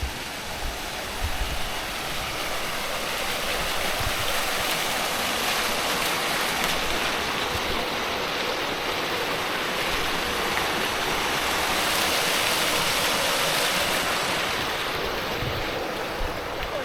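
A water fountain in the main town square of Kaposvár splashes steadily, a continuous broad wash of falling water with outdoor ambience and some wind buffeting, no talking.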